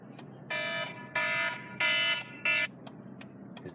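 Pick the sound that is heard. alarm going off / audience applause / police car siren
alarm going off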